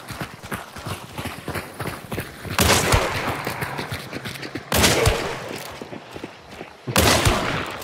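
Gunshots ring out in the online shooter Hunt: Showdown, with scattered small clicks and footsteps, then three loud, sharp blasts at a zombie spaced a couple of seconds apart, each with a long trailing echo.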